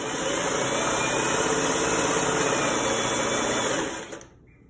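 Sewing machine stitching cord piping onto fabric, a steady close motor hum with rapid needle chatter running continuously before it winds down and stops near the end.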